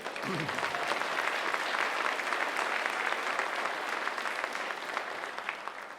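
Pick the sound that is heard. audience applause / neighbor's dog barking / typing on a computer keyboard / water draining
audience applause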